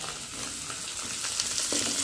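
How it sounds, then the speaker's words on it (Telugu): Ginger-garlic paste curry fries in a pan with a steady, dense sizzle. Faint stirring scrapes come through, and it grows slightly louder near the end with no talking. "బాగా ఫ్రై చేసుకున్నాం."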